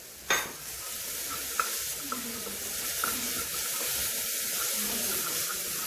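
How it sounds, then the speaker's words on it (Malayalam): Ginger garlic paste is stirred in a hot pan, with a steady broadband sizzle and an occasional scrape or knock of the spoon, close and continuous, and no talking. "അതിട്ട് നല്ലോണം ഒന്ന് ആ പച്ച മണം മാറുന്ന വരെ ഒന്ന് ഇളക്കുക."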